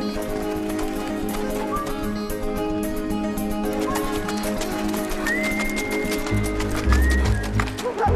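Horses being saddled and ridden out from a farmstead near Toktogol in Central Asia, hooves clip-clopping in an irregular rhythm at close range with a brief whinny and background murmur.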